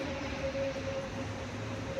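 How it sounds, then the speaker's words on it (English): Inside a metro station, a steady low rumble of a metro train runs with a faint sustained tone over it, continuous and moderately distant, with no talking. "Here I'm in the metro station waiting for the metro."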